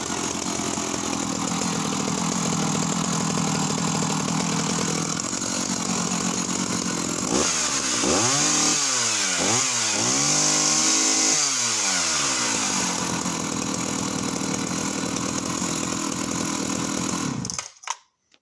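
A 1970s Husqvarna 180S two-stroke professional chainsaw engine runs loud and close, idling roughly, then revving up and down several times in bursts before dropping back and cutting off.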